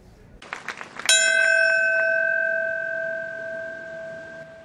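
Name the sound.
single toll of a bell at Ground Zero 9/11 memorial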